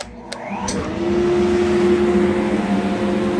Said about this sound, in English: Then we come over and fire up the dust collector.